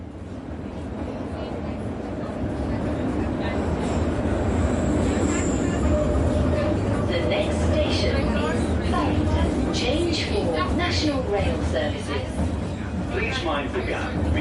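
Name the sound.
London Underground tube train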